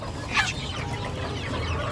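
Poultry peeps and clucks from turkey chicks being handled and taken out, a short louder burst near the start followed by steady, close-by chirping over low background rumble, with no talking.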